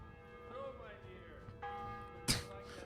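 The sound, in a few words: church bell ringing in Kingdom Come: Deliverance video game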